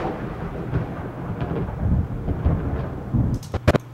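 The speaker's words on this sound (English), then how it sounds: "We'll take this thunder. Start the scene with it." Low, rolling thunder rumbles in uneven swells for several seconds, followed near the end by a couple of sharp crackling cracks, loud and close with no speech.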